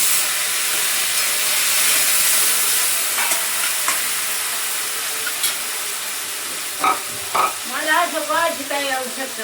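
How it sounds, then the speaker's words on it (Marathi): Tomato frying in hot oil with cumin, mustard seeds, curry leaves and garlic, a steady loud sizzle and hiss with scraping stirs, then a few brief voices and clatter near the end. "टमाटा परतून घेतो थोडासा"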